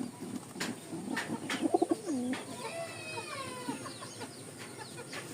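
Pigeons sitting on a nest with eggs, soft cooing and warbling calls near the microphone over a steady background hum, with a few sharp clicks early on.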